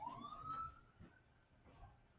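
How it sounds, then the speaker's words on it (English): Sirens wail faint and distant outside, with one rising tone in the first half-second that fades into low background noise. "I heard sirens out there."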